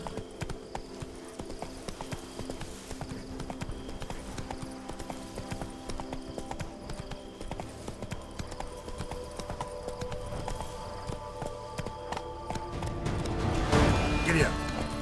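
Horse hooves galloping in The Witcher 3, a steady near clip-clop rhythm that grows louder and busier toward the end.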